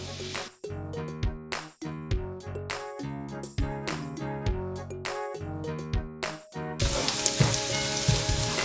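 Finely chopped small onion frying in olive oil in a pan. Plinking music fills most of the stretch, then a bright, loud sizzle bursts in for the final couple of seconds.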